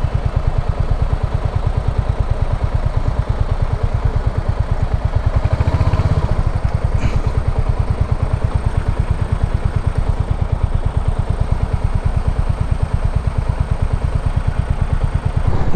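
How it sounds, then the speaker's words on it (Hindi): A Royal Enfield Hunter 350 motorcycle rides a mountain road beside a river on the Jammu to Kashmir route, its single-cylinder engine thumping steadily and loudly throughout with wind and road rumble. "बाइक की अच्छी खासी टेस्टिंग हो जा रही है"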